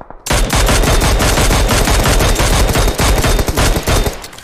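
Rapid automatic gunfire from the shooter game PUBG Mobile rattles in a loud, sustained burst of closely spaced shots lasting several seconds, harsh and near.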